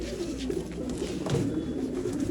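Old line pigeons offered for sale in Bangalore coo continuously close by, a low, rolling burble that carries through the whole short stretch without any speech.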